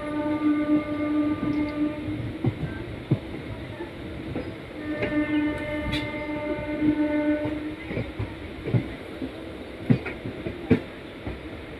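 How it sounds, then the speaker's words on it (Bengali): A train rolls slowly into Kasimbazar station, its low rumble and wheel clatter punctuated by sustained horn tones early on and again midway, with occasional clanks toward the end. "ট্রেন আস্তে আস্তে কাশিমবাজার স্টেশনে ঢুকছে"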